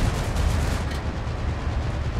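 Rocket artillery firing in the tank game World of Tanks, a dense, continuous roaring barrage of rapid launches and blasts, loud and steady throughout without speech.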